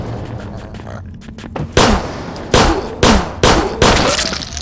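Grenade blasts in the Zompiercer game: a muffled rumble leads into five loud, sharp explosions spaced roughly half a second apart, each with a short ringing decay.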